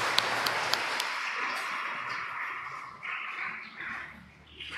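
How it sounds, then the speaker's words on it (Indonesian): Church congregation applauding after a keroncong choir at Sunday Mass, a steady broadband clapping that fills the space, loud and sustained, with a few sharp clicks at the start and slight swells toward the end. "kita beri ucapan terima kasih dan dukungan dengan tepuk tangan"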